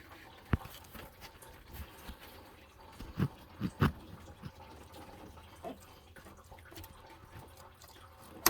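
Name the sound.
coolant pouring out of radiator hose, 2014 Toyota Corolla S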